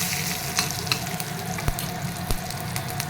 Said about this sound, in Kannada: ಫ್ರೈ ಮಾಡ್ಕೊತೀನಿ.